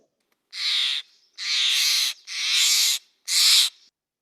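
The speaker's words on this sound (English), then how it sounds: "it's a Steller's jay" Four harsh, raspy calls from a Steller's jay ring out outdoors along a forest trail, each about half a second long and evenly spaced, clear and fairly close with quiet between them.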